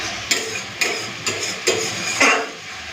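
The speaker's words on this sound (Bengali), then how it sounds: "একটুখানি হাতে সময় নিয়ে মশলাটাকে ভালো করে কষে নেবো" Spice paste with red chilli powder and a splash of water frying in a pan, with about five short scraping stirs over a low sizzle, close and fairly loud, no speech.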